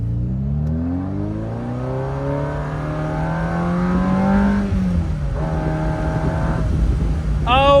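A 40-year-old Ferrari accelerates hard through the gears, its engine note climbing steadily, dropping briefly at a shift, then rising again before another shift near the end, loud and close.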